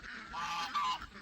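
Geese honking around a farm duck pond, a continuous cluster of nasal calls close by, with a couple of louder honks standing out toward the end of the brief stretch.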